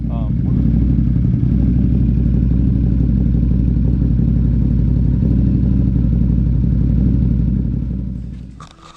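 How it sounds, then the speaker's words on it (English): A GNCC racing dirt bike engine runs loud and close in a steady, unbroken drone without skips, then fades away in the final moments. "the bike fired up and started up and ran fine without a skip"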